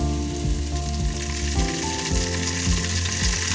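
Onions fry with garlic and ginger paste in a village kitchen, a loud close sizzle with a low tonal hum and occasional stirring knocks.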